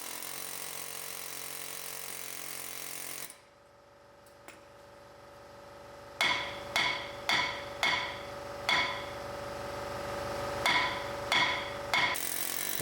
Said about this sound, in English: I decided to try something else, the air hammer